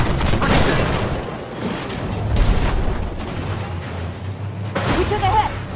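In the Armored Warfare video game, an incoming tank shell strikes the player's vehicle with a heavy, rumbling boom amid engine drone and battle noise, while voices call out over the top.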